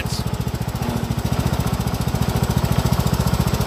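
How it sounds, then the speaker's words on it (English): A Cub Cadet lawn mower runs loud and steady, its engine pulsing in a fast, even chatter as the blade churns over walnuts scattered through the grass, with no voices. "I didn't realize I was mowing walnuts all through there."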